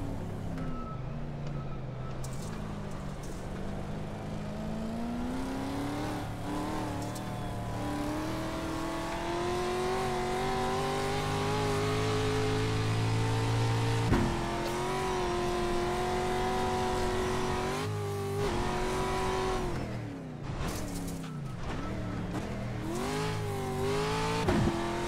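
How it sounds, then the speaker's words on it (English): An off-road race car in a racing video game drones and revs loudly in close view as another car closes in from behind, its engine note climbing and dipping steadily over about twenty-five seconds, with no talk. "Watch your mirrors, there's a car approaching."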